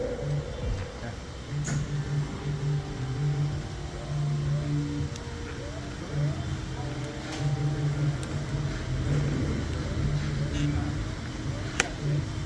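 A Honda IGX800 engine running on a pressure washer, its tone rising and falling in a recurring surge, heard at moderate level with ticking and clanking mixed in.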